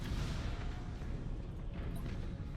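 Spaceship weapons pound a space station in the BattleFleet Gothic Armada game: a dense, continuous roar of heavy booming fire with rumbling low end, steady and loud throughout.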